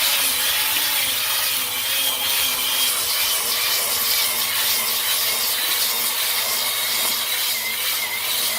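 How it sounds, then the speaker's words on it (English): Sandpaper worked over a pine timber-frame beam makes a loud, continuous, even abrasive rasp, close and steady with a slight rhythmic pulse, and no voices over it. "How much sandpaper do you go through? With this pine quite a bit because the fat gums it up."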